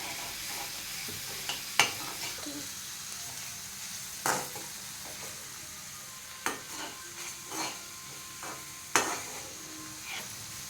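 Food stirred and fried with chili powder in a pan, a constant soft sizzle broken by a handful of sharp scraping strokes of a spoon against the pan at irregular intervals, close by and with no talking.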